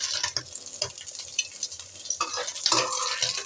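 Small puti fish frying in oil in a home kitchen pan, a steady mid-level sizzle with scattered crackles, stirring scrapes and utensil clinks, heard alone without talk.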